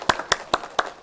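A church congregation at a Sunday morning service claps briefly in thanks, five distinct sharp claps in an even rhythm, close and moderately loud.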